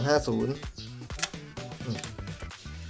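A Rolleiflex 2.8 twin-lens camera shutter fires once with a short, sharp mechanical click, close by, under continuous speech.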